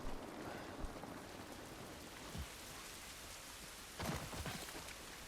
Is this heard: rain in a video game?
yes